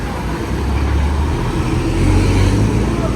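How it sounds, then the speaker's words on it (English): A large gasoline tanker truck rumbles past on a road, its deep engine drone steady and loud throughout with broadband traffic noise, swelling slightly toward the end. "Oh, big truck with gas."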